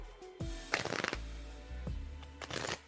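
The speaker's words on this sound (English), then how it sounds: "shuffling for you now, Terry." Tarot cards shuffled during a livestream reading: two quick riffling bursts, near and moderately loud, separated by brief handling sounds, with no speech.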